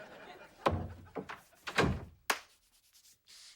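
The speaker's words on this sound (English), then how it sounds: "Shut the door." A door shut in a sitcom scene, a heavy thunk followed by rubbing and further knocks, with faint voices in the quieter moments.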